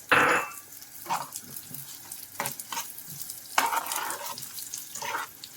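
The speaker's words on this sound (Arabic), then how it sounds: "هحط فيها الرز، اخده تحميصه واحده، يعني احمصه كده" Washed rice stirred and toasting in a little ghee in a pan, with soft sizzling and frying crackle plus a few scraping stirs across the clip, fairly close and moderate in level, with no talking.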